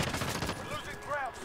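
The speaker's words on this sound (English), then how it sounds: "Okay, Putin, I want to shoot you." Bursts of rapid gunfire in the video game Call of Duty, a brief fusillade of shots with game effects behind it.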